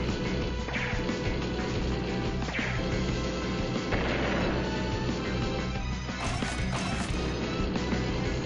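Tank artillery fire from the Advance Wars: Days of Ruin video game, heard as repeated heavy booms and crashes mixed into loud, dense game music, with several distinct impacts spread across the stretch.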